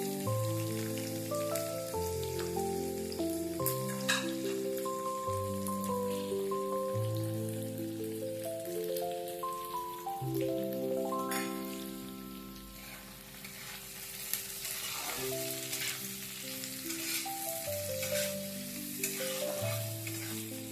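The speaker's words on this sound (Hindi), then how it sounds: "इसी तेल में हम सारे कटे हुए चीजों को" Chopped vegetables frying in oil for hariyali paneer give a steady crackling sizzle with occasional stirring, close and continuous beneath a prominent melodic background tune, with no talking.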